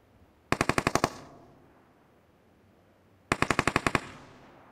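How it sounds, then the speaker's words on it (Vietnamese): Two rapid bursts of video game gunfire, each about half a dozen sharp shots in quick succession, separated by a few seconds of quiet. "Bắn ẩu quá nha"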